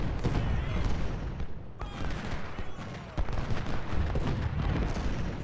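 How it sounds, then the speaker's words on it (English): Civil War artillery and massed rifle fire from the Ultimate General: Civil War battle at Cold Harbor, a dense continuous barrage of booms and crackling volleys with a sharp blast partway through. "Come on, we know there's artillery right here. We need to hit it."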